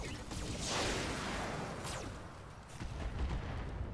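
Weapon fire in the BattleTech mod Roguetech, a dense, sustained roar of mech guns and explosions with sweeping whooshes, loud and continuous throughout.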